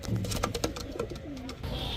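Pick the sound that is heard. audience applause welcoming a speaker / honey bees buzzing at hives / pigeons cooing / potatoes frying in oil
pigeons cooing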